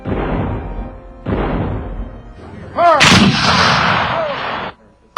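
Artillery bombardment of Fort Sumter in Charleston harbor, South Carolina: loud, heavy cannon booms repeat in a series of deep blasts, followed by a long rumbling, crackling roar of shellfire that fades out near the end.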